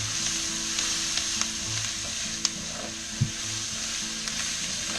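Diced garlic sizzling in a hot pan with other ingredients for a beef and barley dish, a loud continuous sizzle close by, broken by a few sharp utensil taps.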